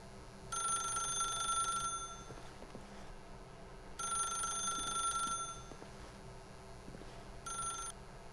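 A telephone rings in The Stanley Parable video game, three bright electronic ring bursts separated by pauses, clear and alone against a quiet background.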